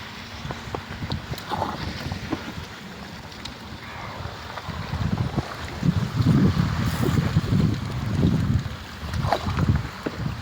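A small wooden rowboat moving along a river in open countryside, with a steady wash of water and wind rumble, the churning and lapping growing louder and fuller in the second half.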